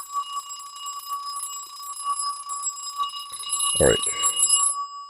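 An old telephone bell rings with a steady, continuous metallic tone held close, joined by a louder rattling buzz near the end, with a brief spoken word over it.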